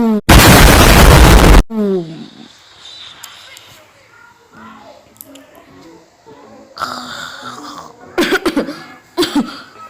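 A cartoonish explosion effect from a video game bursts loudly near the start, a dense roar lasting over a second, followed by quieter game sounds and scattered sharp effect hits while players talk throughout.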